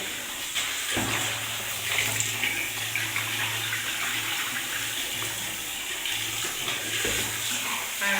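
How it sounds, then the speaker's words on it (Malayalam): Water poured over a freshly brush-scrubbed floor to rinse it, a steady rushing splash that carries on for the whole stretch at fairly close range, with no voices over it. "ഇനി ഒന്ന് വെള്ളം ഒഴിച്ചു കൊടുക്കാം."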